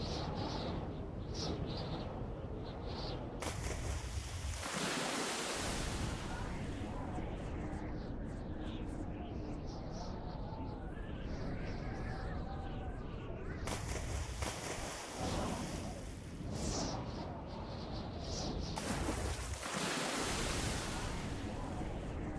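Ocean water waves from the video game Megaton Rainfall, a continuous broad surf wash with swelling, rolling surges, steady and fairly loud throughout, with a voice talking at points over it.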